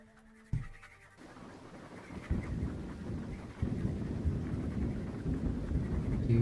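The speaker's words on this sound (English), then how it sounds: "Let me go put on my thunderstorm sounds." Recorded thunderstorm sounds played back late at night: after a brief tone, a rumbling, crackling wash of rain and thunder builds and grows louder in steps, continuous and dense.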